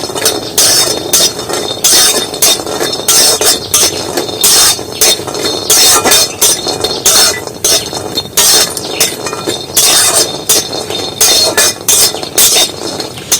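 Fried lentil dumplings (bori) are crushed in repeated rapid gritty clinks and taps, close and loud in an irregular rhythm that runs throughout.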